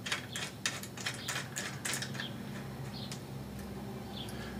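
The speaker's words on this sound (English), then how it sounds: "simply thread the tripod adapter into the back of the iPad bracket" Tripod adapter being threaded into the back of an iPad bracket, quick faint ratcheting clicks in a tight run, close up and quiet, fading into softer scattered ticks.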